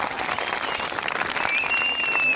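A crowd at an outdoor political rally in Gyumri claps steadily, a broad wash of applause with a faint whistle rising near the end.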